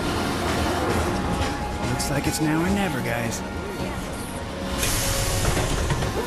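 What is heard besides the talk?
train in video game Final Fantasy 7 Remake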